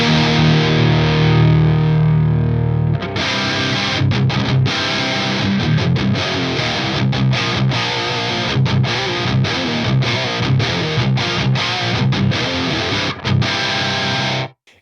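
Heavily distorted electric guitar through an Axe-Fx III modelling a dual rectifier Recto amp, with the master around 2, chugging with choppy, rhythmic palm-muted stops after a sustained opening chord, loud and alone.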